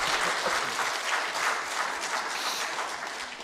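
Sustained applause from a public planning meeting audience fills the room, dense and steady clapping from many hands throughout, fairly loud with no speech over it.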